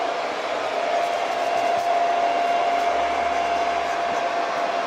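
A hair dryer blows steadily on wet paint on a large craft tray, a constant close whine and airy rush holding level throughout.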